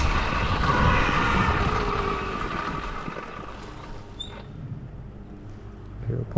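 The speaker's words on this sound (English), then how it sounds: "Hear a plane." An airplane passes overhead as a broad, rumbling drone that is loudest at first and slowly fades into the distance, heard outdoors in a quiet spot with no talking.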